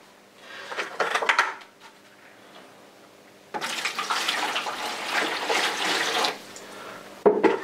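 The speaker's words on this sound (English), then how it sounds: "gauge the water by placing the water in first before adding the powder" Water gushes into a bucket for mixing tile grout in two bursts, a short splash then a longer steady pour, followed by a brief clunk.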